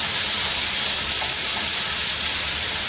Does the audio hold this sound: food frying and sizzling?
yes